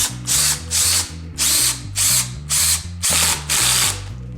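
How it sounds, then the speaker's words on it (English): Power drill driving screws to fasten the fence of a sanding jig for segmented woodturning, in seven regular whirring bursts with a ratcheting, clicking gear sound between them, loud and close. "And what I want to do is screw it down tightly now."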